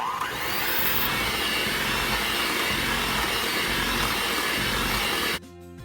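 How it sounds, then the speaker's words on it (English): Electric mixer whirring steadily as peach pound cake batter with peach food coloring is beaten smooth, a loud continuous motor drone that cuts off abruptly near the end. "I'm going to mix this in until it's well incorporated."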